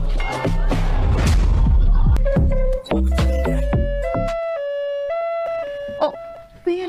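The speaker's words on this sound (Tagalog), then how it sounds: "Naramay mga ambulansya." An ambulance siren wails in a drama scene, a loud rising-and-falling tone holding steady tones near and in front, with music and voices underneath.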